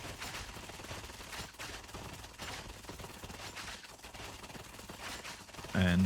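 Rapid lasgun fire in the Warhammer 40K: Darktide game, a Hive Scum Veteran's recon lasgun shooting at an enemy's weak spot, a steady stream of close, loud shots over a busy game mix with a louder burst at the end.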